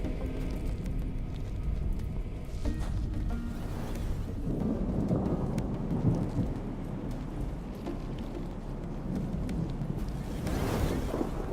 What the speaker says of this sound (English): the lightning is a little bit loud